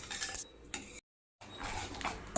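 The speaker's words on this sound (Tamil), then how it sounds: "கட்டி இல்லாமல் நல்லா இந்த மாதிரி மிக்ஸ் பண்ணிக்கலாம்" A spoon clinks and scrapes in a bowl while ground flour powder is stirred into a mixture for Chettinad kummayam, with quick rhythmic clatter and a short silent break in the middle.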